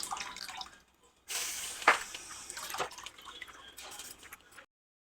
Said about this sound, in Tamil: தண்ணி கொதிக்க ஆரம்பிச்சிருச்சு